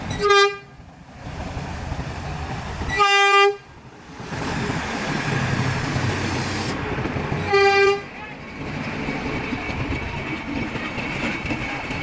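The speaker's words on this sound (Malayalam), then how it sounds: "അതാണ് ഇവിടുത്തെ ടോയ് ട്രെയിൻ" Three loud horn toots, each about a second long, from the Matheran toy train sound over a continuous rolling rumble of the train passing nearby.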